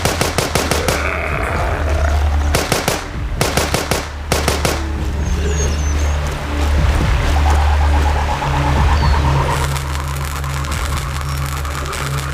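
Loud bursts of rapid gunfire from the game The Walking Zombie 2 come in several volleys over a constant engine-like hum and game noise.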